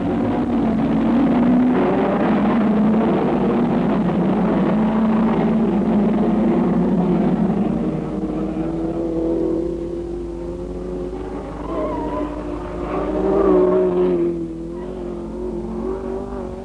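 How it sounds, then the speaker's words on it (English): Sports cars race at Cadwell Park circuit in 1963, a loud sustained engine roar that stays dense for several seconds, then eases into rising and falling revs as cars pass one after another. "Now we're away again with the sports cars, and once more the fun is fast and furious."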